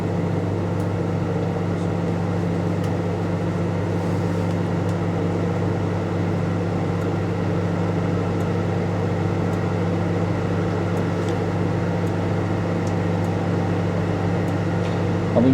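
A vintage 1980s Sharp Carousel II microwave oven running with its turntable going around, giving a steady, even electrical hum with a low drone that stays constant throughout and has no voices over it.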